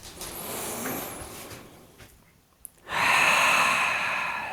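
Slow yoga breathing, first a long soft exhale that fades into near silence, then a short click and a loud, close, airy inhale that swells and holds, with no talking.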